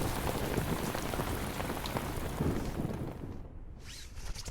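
Steady heavy rain pours down in a dense, continuous hiss that fills the scene, then thins out abruptly near the end as the downpour stops.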